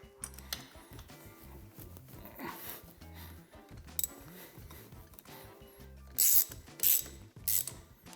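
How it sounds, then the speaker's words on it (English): An inch-pound torque wrench set to 80 inch-pounds ratchets on the cylinder head of a Honda CB350 engine in quick clicking bursts. Sharper metallic ticks and clacks come near the end, and nobody speaks. "Inch-pound torque wrench."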